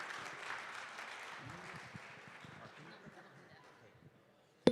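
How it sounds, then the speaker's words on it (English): Scattered applause from a conference audience at a renewable energy and sustainability event, moderate and fading over several seconds with some voices mixed in, ending in a sharp close thump. "Let's give everybody online a round of applause"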